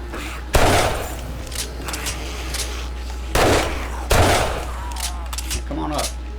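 Heavy gunfire in a shooter game, sharp loud bursts of shots and rapid volleys arriving in several clusters over a steady low hum, close and forceful.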